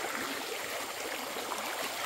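River water rushing along after heavy rain, a steady broad wash of flowing noise with no voices, fairly even and close.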